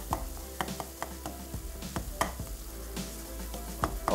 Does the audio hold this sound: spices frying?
yes